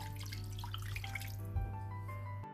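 Two cups of water pour steadily into a pot for cooking bulgur nearby, a continuous splashing stream with a rising tone as the vessel fills, ending abruptly.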